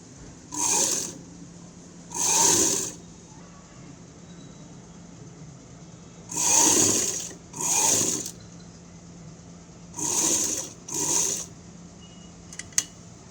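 Sewing machine running a thin line of stitches on blouse lining piping, six short whirring bursts in pairs separated by quiet pauses, close and clear, with no voices.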